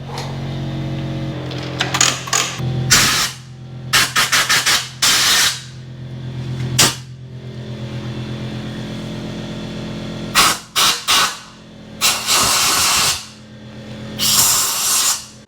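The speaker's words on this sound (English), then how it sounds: "Sorry about the noise. That's the compressor, because I'm about to blow all that out." Loud bursts of hissing compressed air from an air compressor blast in short, irregular spurts, some clustered rapidly, over a steady low mechanical hum, while blowing out a stuck Honda CX500 engine.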